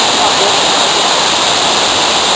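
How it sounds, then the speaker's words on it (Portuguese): A 135-metre waterfall in the Garganta do Silveirão canyon roars loudly and continuously close by, a dense unbroken rush of falling water. "essa aqui é aquela cachoeira de 135 metros"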